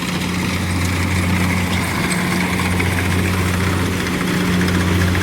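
A farm tractor engine idles steadily while the machine sits stuck in mud, a loud, constant low drone with a steady hum throughout and no voices.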